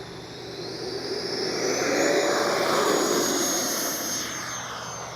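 An E-flite Viper 90mm RC model jet roars steadily during takeoff, its ducted-fan whine building to a peak midway and then easing slightly as it pulls away.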